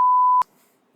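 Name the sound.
censor bleep beep sound effect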